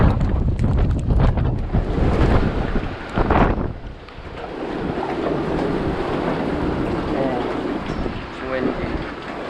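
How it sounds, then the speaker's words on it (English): Strong hurricane wind at a marina buffets the microphone in loud, gusty roars, easing slightly midway while a low rushing continues throughout. "Yeah, it is very windy."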